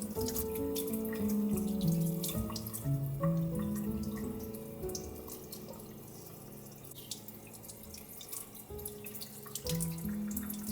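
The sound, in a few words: washing red sea bream fish under running water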